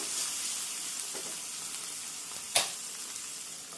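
Salted okra frying and being stirred in a pan gives a steady, even hiss, with one sharp utensil click partway through and no voices.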